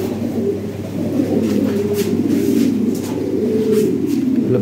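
Lahori Sherazi pigeons, a large, high-quality breeding pair, coo steadily and close by in repeated low rolling phrases across the whole stretch, with no talk over them.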